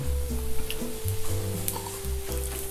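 Sweet potato adai sizzles and fries in a hot pan with cashews, a steady close crackle under a constant electrical hum, with occasional stirring clicks.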